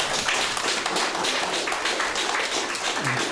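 An audience at a poetry reading in Seattle claps steadily after a poem, a dense wash of applause that holds for the full few seconds without any voices.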